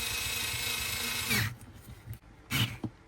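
A LIDL Parkside cordless screwdriver whirs close up while tightening a captive nut, with a steady motor whine that stops abruptly, followed by a couple of short bursts of clicking and scraping.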